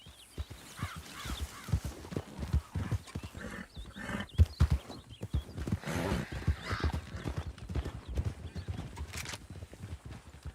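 Horses ridden in a Western ranch roleplay video game make irregular clip-clop hoofbeats and snorts over a busy background, with short bursts of activity and a brief whinny-like call, and no clear talk.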